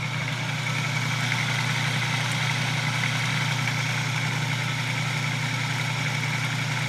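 A salvaged washing machine motor with a centrifugal clutch runs steadily, a constant low hum with a droning tone that holds level throughout, close and moderately loud with no voices.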